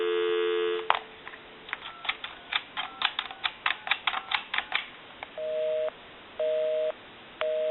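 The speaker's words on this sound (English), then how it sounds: "Give you some dial tone" A steady dial tone on a Western Electric Trimline telephone is cut off by a quick run of dialing tones and clicks, followed by repeated pulsing busy-signal beeps.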